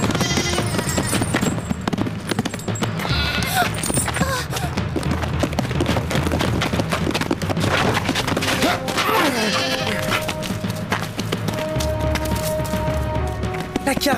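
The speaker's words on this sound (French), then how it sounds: "Nous avons ramené les moutons de cette fille." Sheep bleating amid a loud, busy animated scene, with clip-clop of hooves and other dense background sound running throughout.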